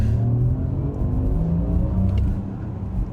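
A 2025 Porsche Macan electric SUV launches hard from a standstill under launch control, its steady low electric motor whir and road rumble rising as it accelerates, loud and close with no talking.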